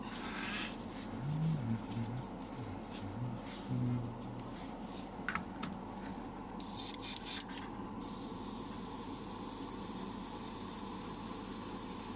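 A steady airbrush hiss sprays pre-thinned white lacquer paint continuously at close range, with faint brief clicks and knocks partway through and no speech.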